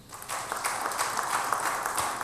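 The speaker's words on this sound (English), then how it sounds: "Give him a round of applause." Short round of applause from an audience at a church gathering, continuous clapping of many hands at moderate volume with no voices over it.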